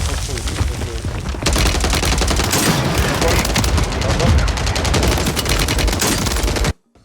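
Rapid shotgun blasts and automatic gunfire ring out in a Warzone 3 firefight, dense and loud for most of the stretch before cutting off abruptly near the end.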